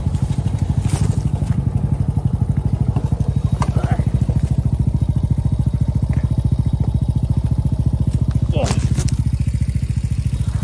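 A Honda Wave 100 motorcycle climbs a steep hill on a forest trail, its small engine droning loud, close and steady with a rapid rhythmic pulse and occasional knocks and rattles.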